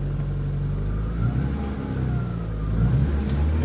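A Mercury Capri runs close by, its engine droning steadily with slight revving as it drives back and forward, no voices over it.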